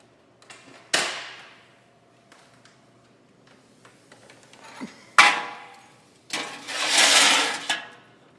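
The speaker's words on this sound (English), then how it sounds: "I'm going to take my socket wrench, I'm going to go into the car and remove the oil plug out of the oil pan" A socket wrench working on a car's oil drain plug under the oil pan, a few sharp metallic clanks and taps spaced apart with ringing decay, plus a longer rasping burst near the end, close and alone.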